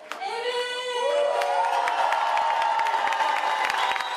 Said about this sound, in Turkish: Çiftin evet demesiyle alkış tufanı koptu.